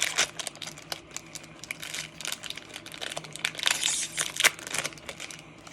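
A foil Pokémon card pack is torn open and handled, its wrapper crinkling and crackling in close, continuous bursts with a few sharper rustles, no talking.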